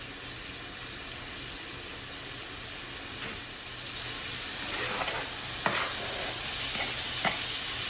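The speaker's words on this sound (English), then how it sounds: "We want some of that goodness fried down with these veggies." Pork backfat frying with vegetables in a pan gives a steady sizzle that swells a little louder midway, with a few sharp crackles and pops near the end and no talking.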